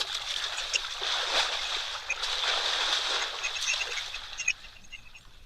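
An elephant bull at a waterhole swishes its tail through the water, making soft, repeated splashy swishes against a steady wash of ambient noise with bird chirps scattered throughout.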